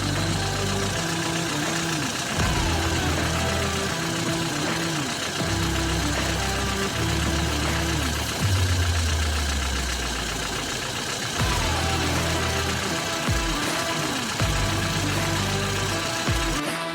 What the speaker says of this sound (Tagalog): Start mo to. So, i-start na ni Kap